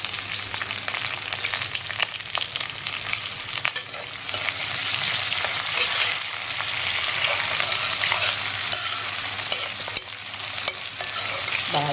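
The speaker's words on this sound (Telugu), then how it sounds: "బాగా వేయించుకుందాం." Green chilies, dried red chilies and curry leaves frying in hot oil, a steady crackling sizzle with occasional stirring scrapes, close and continuous with no voices.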